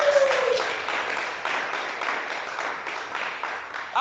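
A church congregation applauding, a sustained wash of many hands clapping at steady loudness for several seconds, with a voice briefly audible at the start.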